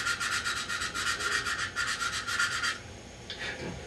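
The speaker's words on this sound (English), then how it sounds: "scrub the glass and rough it up in one area" Abrasive scrubbing of a turkey call's glass striker surface, roughing it up in one spot: rapid, steady back-and-forth rasping strokes, close and loud, stopping abruptly with a few lighter scuffs after.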